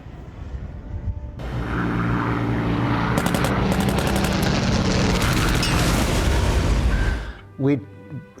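Spitfire propeller aircraft flying overhead on a beach film set, a loud, steady engine drone building and sustained for several seconds, with sharp gunfire bursts layered over it before it cuts off.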